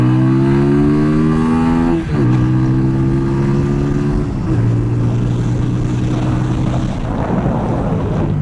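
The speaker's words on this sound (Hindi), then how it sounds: "So the exhaust note sounds really good." A TVS Apache 200 4V BS6 motorcycle being ridden, its exhaust note loud and close, with strong steady harmonics that shift as the rider changes gears, and no voices over it.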